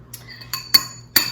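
A utensil stirring mayonnaise into canned chicken salad in a bowl, giving four separate clinks against the bowl, close and fairly loud, with no voices.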